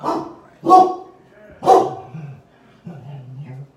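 A dog barks three times in a loose rhythm, fairly close, followed by a lower whimpering whine at the end.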